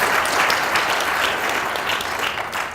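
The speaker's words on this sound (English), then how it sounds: "I just wondered if we could have another round of applause for our tireless volunteers, Brenda Beck and Sivan Alanko" A hall audience at a Tamil Heritage Month celebration claps steadily and loudly, a dense, sustained round of applause with no voices over it.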